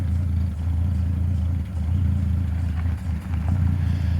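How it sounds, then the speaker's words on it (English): A 1973 Plymouth Duster engine runs with a low, throaty rumble close by, with a faint light clatter as the gear engages. "Hear a little rattle upon engagement."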